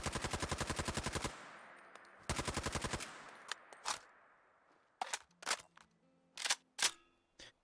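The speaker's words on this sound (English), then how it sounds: "let's go ahead and check them out and see how they fit on the weapon, starting with firing and reloading." A retro AR rifle in Fallout 4 fires two rapid full-auto bursts, loud and close, followed by a series of sharp metallic clicks and clacks from magazine and charging-handle reload actions.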